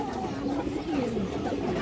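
A lively pet pigeon coos in soft, rolling low calls, close by, with a steady background of other birds and ambient noise.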